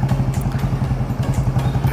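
Motorcycle engine running at low speed in a morning traffic jam, a steady close rhythmic thumping idle with light clatter, no talk.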